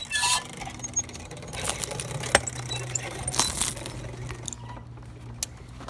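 Heavy quad bike tyres crunching and crushing objects, with several sharp cracking snaps and scattered gritty crackles over a low steady engine rumble, close by and fairly loud.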